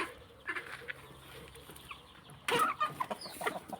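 A rooster of a Thai fighting-cock breeding line clucks and calls in short repeated bursts, louder near the end, over steady outdoor background noise.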